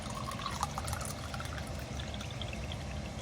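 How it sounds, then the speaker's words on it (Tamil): A steady stream of water pouring into a vessel of black kavuni rice, continuous and close, filling for a few seconds without pause. "தண்ணி ஊற்றிக்கலாம்."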